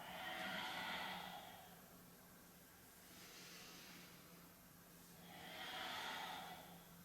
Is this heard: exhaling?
yes